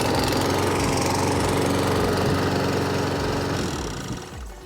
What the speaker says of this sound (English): This mower comes with a smart choke technology, making it very easy to be able to pull and start.